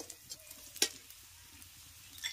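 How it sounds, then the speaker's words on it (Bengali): Onions and a few slit green chilies frying in a pan for rohu fish curry, a faint low sizzle with occasional soft stirring taps and one brief clink, heard close and quiet. "পেঁয়াজটাকে প্রথমে একটু লাল করে ভেজে নেব। দিয়ে দিচ্ছি কয়েকটা চেরা কাঁচা লঙ্কা।"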